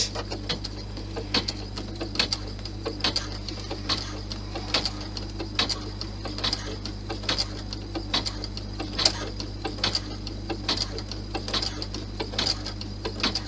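Sewing machine slowly stitching the end seams of a messenger bag at a controlled low speed, with regular soft clicking needle strokes over a steady low motor hum.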